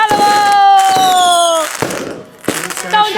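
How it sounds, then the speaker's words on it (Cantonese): Fireworks go off at a rural village Mid-Autumn Festival: long whistling rockets rise in pitch over loud crackling bursts and pops, with a crowd and voices audible in between. "放煙花咯"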